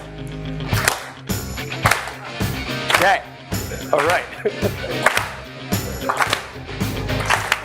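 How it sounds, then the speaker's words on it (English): A lecture audience claps in time to music, sharp rhythmic clap bursts landing roughly once a second over a beat, with a voice speaking briefly amid the clapping. "we gotta find the beat, and then we gotta clap to the beat"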